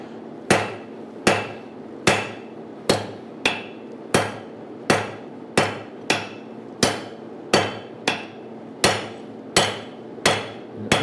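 Hammer blows forging hot metal across an anvil at a blacksmith's forge, a steady run of about fourteen sharp, ringing strikes at an even pace, close and loud with short metallic decays and no talk.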